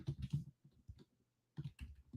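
Faint bursts of soft clicking from typing on a computer keyboard come close by in short clusters, separated by a quiet gap.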